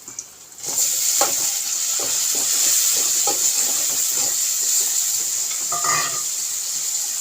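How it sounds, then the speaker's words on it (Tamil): Tomatoes sizzle in a hot pan while being stirred, with soft scraping strokes over a continuous frying hiss, salt being added. "தக்காளி வதங்கிறது கொஞ்சம் உப்பு போட்டு விட்டுறோம்."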